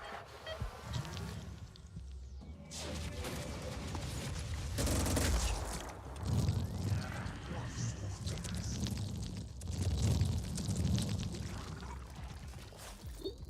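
Gunfire from the turn-based strategy game Terror From the Deep comes in bursts of rapid shots mixed with buzzing game effects, with a voice commenting over parts of it.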